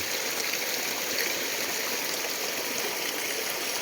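Cold forest-fed river at a free swimming spot in Duero, Bohol, flowing steadily with a continuous broadband rush and trickle, close and even throughout, with no talk over it.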